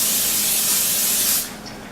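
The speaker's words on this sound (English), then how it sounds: "I'm going to spray my pan for my chicken." Cooking spray sprayed onto a pan before chicken goes in, one close, loud continuous hiss for about a second and a half that cuts off abruptly, leaving faint room tone.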